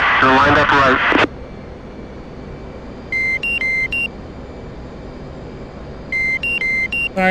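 A smartphone, used for head tracking during a DCS World F/A-18 Hornet flight-sim session, sounds two short bursts of clear electronic notification tones over a steady low hum, after a brief stretch of talking at the start.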